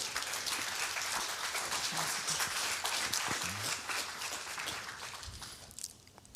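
Church audience applauding as a man is called up to the front, a dense, steady clapping that rolls on for several seconds before thinning out.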